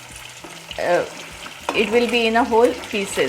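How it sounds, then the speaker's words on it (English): Seer fish coated with salt and turmeric fries in a pan over a medium flame, giving a soft sizzle under a person talking nearby. "That's why we are frying first, and we have applied only salt and turmeric to it"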